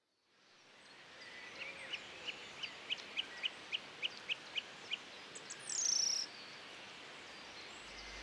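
Birdsong along a country lane in the Hampshire countryside, a bird repeating a rapid series of clear, evenly spaced chirps over steady ambient rustle, with a brief louder call near the end.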